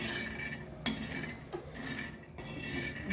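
Dry peanuts are scraped and stirred across a hot griddle, a gritty rustling broken by a few sharp metallic clinks.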